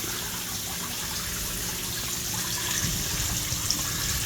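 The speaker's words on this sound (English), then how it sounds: "Hooks right up to the outlet where the water sprays out" Water sprays steadily from the outlet of a waterfall pool fountain, a continuous close hiss and rush of falling water that holds an even level throughout.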